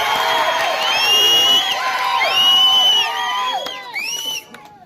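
A large crowd at a political rally in Nellore cheering, whooping and shouting, loud and close, with overlapping shrill voices and whistles swelling and ebbing before tailing off near the end.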